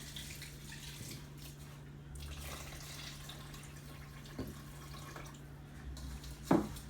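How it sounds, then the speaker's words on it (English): Water being poured over rice into a rice cooker pot, a steady low trickle and splash heard close up under a faint hum, with a few small clinks. "I'm literally gonna just put the water a little bit below the 3."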